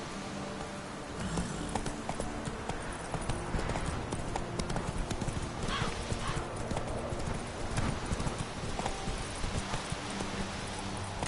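A horse in The Witcher 3 video game trots with steady, rapid clip-clop hoofbeats over a dense, continuous game soundscape, moderately close.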